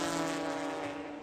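A Porsche race car, a Cayman or Boxster, roars past on the Sebring track during a club race, a loud, sustained engine tone over a brief moment with no talk.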